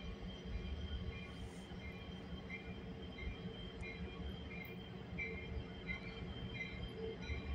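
A CN or VIA train rumbles steadily past Brantford VIA station, its low, continuous roar and faint wheel squeal sustained throughout at a moderate distance, with no talk.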